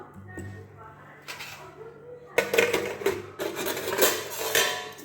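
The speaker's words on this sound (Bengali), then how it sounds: "আমি এবার ঢাকা দিয়ে দেবো" Metal clatter of a lid being set onto a pot of raw mango laddu mixture in a home kitchen, a few sharp clinks and scrapes, close and fairly quiet.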